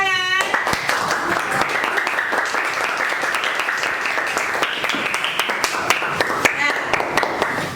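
A sixth-grade class of schoolchildren breaks into clapping, a burst of many small hands with sharp irregular slaps that continues for several seconds, a brief voice at the very start.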